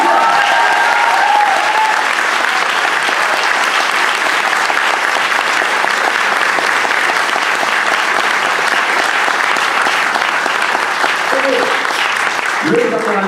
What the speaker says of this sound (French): on pourrait peut-être applaudir un petit peu Philippe Noël